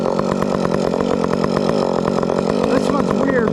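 A Husqvarna 562XP chainsaw cuts hard wood while felling trees near a building, its engine roaring steadily and loudly up close without a break. Someone talks over it.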